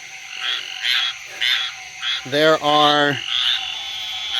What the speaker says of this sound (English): here's one of those Cope's gray tree frogs we've been hearing calling so much